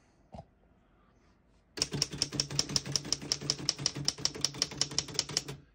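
Typing on a 1919 Oliver No.9 antique typewriter, a brief tap at first, then a steady fast run of sharp mechanical key strikes with clacking rhythm, close and clear with no talk.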